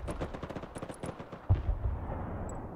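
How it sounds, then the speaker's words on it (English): A rapid run of distinct gunshots and machine-gun bursts fills the first second and a half in Broken Arrow. A heavy artillery impact then booms and rumbles away, with no talk. "I'm gonna drop artillery right on top of here."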